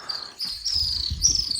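High, continuous chirping from small birds or insects at a mountain campsite in Nuweragala, Maha Oya, close and steady with faint low rustling underneath.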